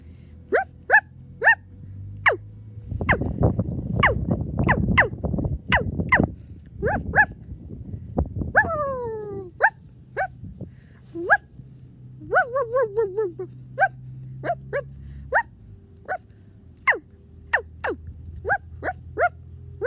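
A man imitating a dog with his voice, giving a long series of sharp, loud bark-like yelps at irregular intervals, some rising into whining howls, with a burst of rustling noise in the middle.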